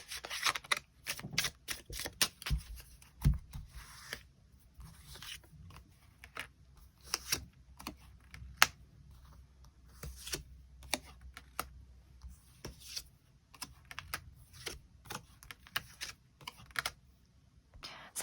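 Tarot cards being shuffled and drawn, giving close, sparse, irregular papery snaps and flicks against a quiet background, with no talking.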